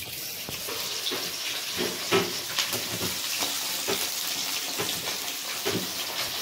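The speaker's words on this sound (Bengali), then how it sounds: "এগুলো সব তুলো সাটিন, ভালো করে এবার ধোয়া হচ্ছে।" Cotton satin fabric is being washed by hand in water, giving steady splashing and sloshing with repeated wet slaps and swishes, close and continuous with no talking.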